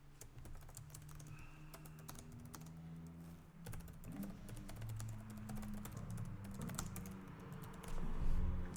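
Steady run of keyboard typing on a computer keyboard while a message is composed, continuous clicking keystrokes at moderate level with faint low background hum and no voices.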